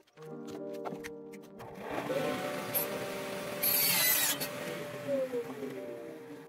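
A piece of trim is cut with a power tool, starting with a few sharp taps and then a sustained, steady buzzing cut that stays moderately loud for several seconds before easing off.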